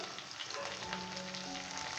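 Okra frying in a pan over a medium-low flame, a soft, steady sizzle with faint crackles, quiet and close, no voices.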